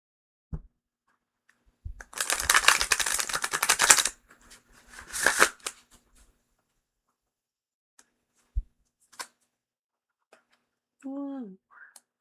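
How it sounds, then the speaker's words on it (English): A tarot deck is riffle-shuffled in two short bursts of dense, crisp card flutter, followed by a few isolated taps and card clicks in a quiet room, with a brief voice at the end. "I love shuffling. This deck is so nice."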